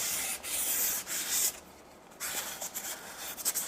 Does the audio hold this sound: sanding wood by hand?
yes